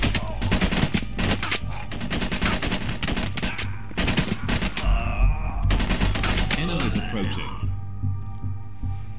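Gunfire in the VR shooter Covert Syndrome, with loud bursts of rapid automatic shots coming in clusters and pauses, under a person talking, ending in a fading electronic tone.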